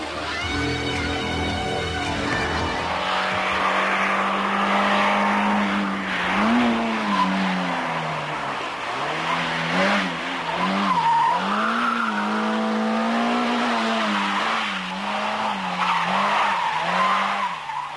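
A Renault 19 16S driven hard in sporty fashion, its engine revving and falling while the tires squeal repeatedly through corners, loud and close, with no talk.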